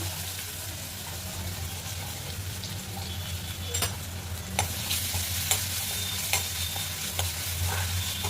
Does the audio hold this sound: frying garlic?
yes